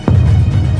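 Playmobil toy pirate ship cannon firing in a stop-motion naval battle: a sudden low boom that swells into a sustained rumbling throb lasting most of a second, loud and close, with a second sharp burst right at the end.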